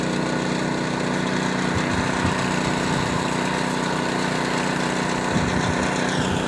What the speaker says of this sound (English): So Chad's working pretty much the finish aspect of the troweling.